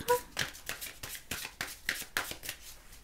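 Witches' oracle cards shuffled by hand in a quick series of crisp, riffling bursts, close and fairly soft, with no one speaking.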